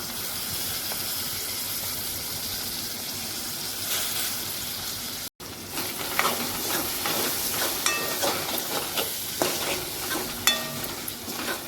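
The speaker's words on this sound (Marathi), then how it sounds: "त्याच्यावरती आपण टॅमॅटो टाकून घेऊया त्यालाही व्यवस्थित परतून घेऊया" Tomatoes sautéed in a pan for a spicy pigeon pea curry, a continuous hissing sizzle with a short break, then louder spoon scrapes and clinks stirring through the pan.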